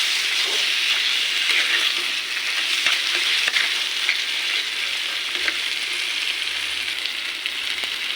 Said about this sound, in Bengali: সবুজ শাকটাকে সুন্দর করে নেড়ে চেড়ে নেড়ে ফেলে নামায় ফেলবো